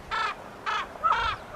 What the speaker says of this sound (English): We have a raven joining us.